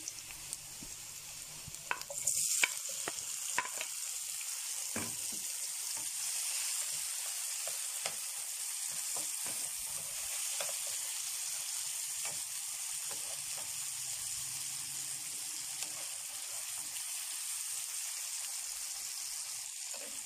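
Tomatoes frying in a hot pan give a steady close sizzle throughout, with a burst of louder crackle and a few stirring scrapes near the start.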